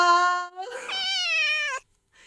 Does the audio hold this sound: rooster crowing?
no